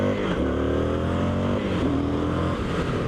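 An Indian FTR1200S motorcycle engine revs and pulls hard under acceleration, a loud continuous roar with rising and shifting pitch, close and steady throughout.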